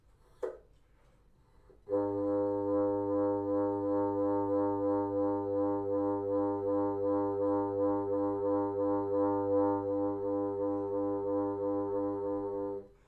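A sustained reedy saxophone multiphonic on G with several steady tones, two muffled constant pitches and a slow, regular beating low G pulse, entering after a brief click and holding for about eleven seconds.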